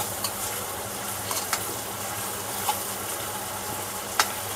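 Chopped onion sizzles in a pan for a stuffed eggplant curry, a soft steady frying hiss with a few faint clicks and taps of stirring, and no voices.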